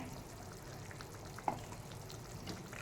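Vegetable sagu boiling in a pot after ground masala is added, a soft steady bubbling and simmering texture with one brief louder pop, heard alone without talk.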